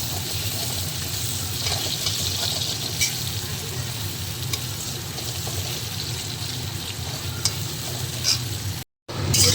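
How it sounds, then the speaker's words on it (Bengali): Onion frying with cumin seeds tempered in a pan, crab cooking nearby, giving a steady dense sizzle with occasional stirring scrapes, close and continuous, broken by a brief dropout near the end. "এখন ওই পেঁয়াজ জিরে ফোড়ন দিয়ে এখন এটা ভাজছি।"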